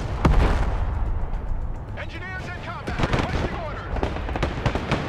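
A Javelin missile strike in the Broken Arrow war game lands among heavy explosive booms and crackling impacts, loud and continuous, with a voice talking over the battle noise.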